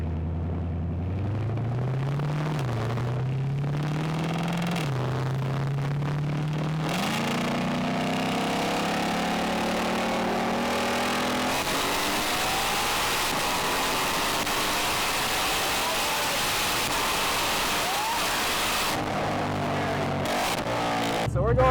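A Ford GT500 roll racing against a supercharged manual Mach 1 screams loudly through repeated gear changes, its engine pitch climbing, dropping at each shift, then rising in a long sustained wail.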